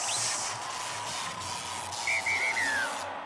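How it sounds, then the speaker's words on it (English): A referee blows the halftime whistle in an NRLW women's rugby league match between the Parramatta Eels and Canterbury Bulldogs: a short, wavering trill over a steady roar of stadium crowd noise, with a brief shrill tone at the very start. "There is the halftime whistle"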